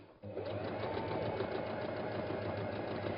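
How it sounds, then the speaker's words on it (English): Sewing machine running steadily as it stitches quilt pieces with a quarter-inch seam, a continuous close mechanical hum with a fast regular needle rhythm after a brief quiet start. "sew from the outside edge using a 1/4 inch and sew all the way down and off the bottom"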